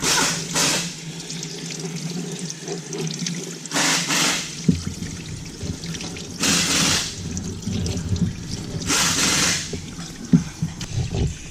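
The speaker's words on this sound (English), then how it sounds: "Just hit it with the water, Martin" A water hose sprays through a Duramax diesel filter, bursts of hissing spray coming and going several times, with dripping and trickling water between them.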